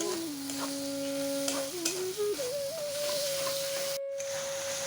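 Tomatoes and spices fry in a pan for a pangas fish curry, a soft, continuous sizzle with stirring noises beneath a prominent whistling melodic tone that shifts pitch, briefly cut off near the end.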